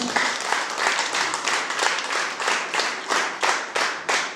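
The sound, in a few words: audience applause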